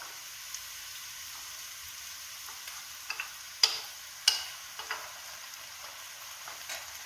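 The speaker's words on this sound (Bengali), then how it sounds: "এবার আমরা আদা বাটাটা দিয়ে দেব।" Ginger paste frying in oil in a pan for a Bengali prawn curry: a steady, soft sizzle runs throughout, broken by a few sharp ticks and clinks of a utensil against the pan, with no talk.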